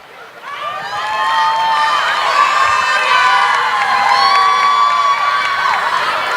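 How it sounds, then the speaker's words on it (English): Crowd at a Diwali community performance in Cary cheering and whooping, with high children's shouts, loud and sustained after a short rise. "Please give them a big round of applause."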